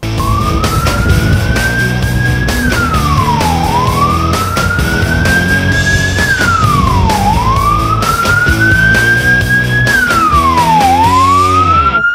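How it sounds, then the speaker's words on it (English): A loud emergency siren wails in repeated rising and falling sweeps over the rumble of a nearby vehicle engine. "listen for sirens."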